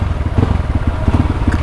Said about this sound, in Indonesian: Jadi ya kayak gini suara knalpotnya.